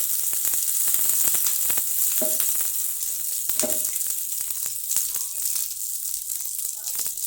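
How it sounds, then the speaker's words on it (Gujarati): Butter and a little oil sizzle and crackle on a hot griddle (tava) over medium heat, ready for toasting pav for masala pav, a steady close hiss with small pops and faint stirring clatter. "આપણે પાવને શેકવા એક તવી લઈ તેમાં આ રીતે બટર નાખીશું"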